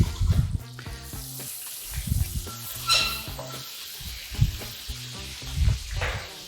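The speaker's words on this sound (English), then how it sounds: "now we're gonna put a little bit water in the pot" Water hits a hot pot and sizzles in bursts, with stirring and clattering of utensils over a soft background hum.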